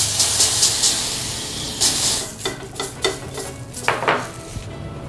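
A hot, burnt metal carabikang cake mold is scrubbed and scraped clean, giving bursts of harsh hissing scrapes and light metallic clinks against steady background sizzle.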